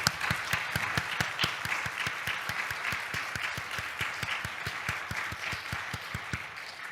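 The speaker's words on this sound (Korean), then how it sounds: "우리 하나님께 다시 한번 영광의 박수 올려드리겠습니다" A church congregation applauds during a Sunday worship service, with steady, fairly rhythmic clapping that fills the room at a moderate level and runs without any voices over it.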